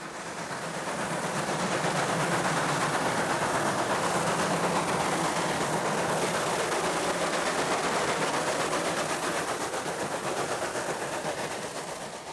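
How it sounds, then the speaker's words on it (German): A narrow-gauge Selketalbahn locomotive in the Harz runs through a wooded valley, producing a loud, sustained rhythmic chuffing and rolling rumble that swells, holds steady, and slightly fades over twelve seconds, with no voices. "Hier können die Lokomotiven ihre ganze Kraft entfalten."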